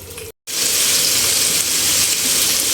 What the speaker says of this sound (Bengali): আমি উইংসগুলোকে ডুবো তেলে ভেজে নিব